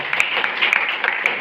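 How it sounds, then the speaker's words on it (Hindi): Clapping from an audience at a talk, steady and fairly close, with a few sharper individual claps standing out from the brief burst. "बस जोरदार ताली बजा।"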